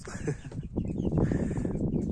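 A rooster crows in a long, strained call, fairly close, with farmyard noise around it.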